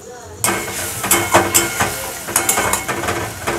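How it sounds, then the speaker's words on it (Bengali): Spice paste with cumin, chilli and coriander powder frying in a pan for coconut chana dal, a close continuous sizzle punctuated by repeated spatula scrapes and clinks against the pan. "মশলাটা ভালো করে কষিয়ে নিলাম"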